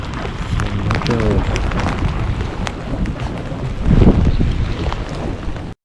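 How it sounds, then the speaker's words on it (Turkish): Heavy downpour hisses steadily amid loud wind rumble while fishing for horse mackerel, with occasional sharper knocks and a brief surge near the end. "fena yağmur başladı."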